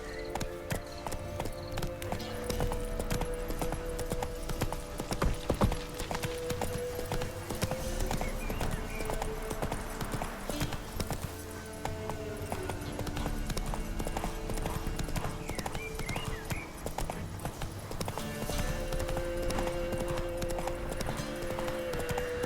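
Roach, a horse in The Witcher 3, gallops with a rapid, steady hoofbeat rhythm, a brief whinny and musical score underneath, with no talk.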